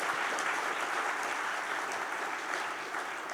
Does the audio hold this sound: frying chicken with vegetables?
no